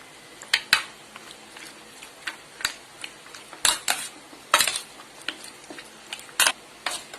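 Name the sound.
mixing chicken with ginger-garlic paste and curd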